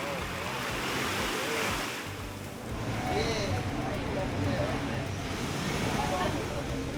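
Caribbean ocean surf at Bananarama Beach, Roatan, rolls and washes continuously with a rushing, wind-blown roar, briefly dipping before building again.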